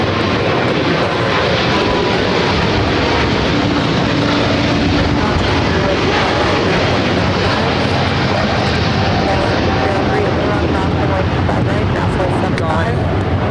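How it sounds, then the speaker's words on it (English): Air China Boeing 777-300ER jet taking off at LAX, a loud continuous broadband engine roar filling the scene, with air traffic radio voices talking over it. "In Air China, the 777-300ER"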